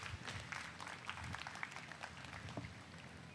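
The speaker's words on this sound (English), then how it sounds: "let's give these exhibitors a big round of applause." Ringside crowd clapping at a miniature Hereford cattle show, a dense, steady patter of many hands with scattered sharper claps running the full length at moderate distance.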